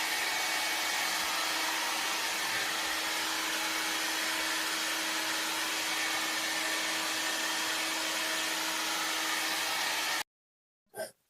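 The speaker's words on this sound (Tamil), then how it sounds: "குளிக்க வச்சாச்சுல ட்ரையர் தான் போட்டுருங்க" A hair dryer blows steadily and loudly up close as it dries a kitten after its bath, a continuous whooshing drone with a faint motor hum underneath, cutting off abruptly near the end.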